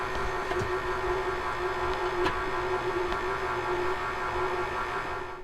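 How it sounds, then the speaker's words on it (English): An electric mixer drones steadily as dry ingredients are worked into chocolate chip cookie dough, a constant close motor hum with faint clicks and no talking. "now we mix in our dry ingredients"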